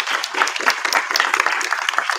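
An audience at a mining conference in Peru applauds, with a dense, steady patter of many hands clapping that continues evenly throughout.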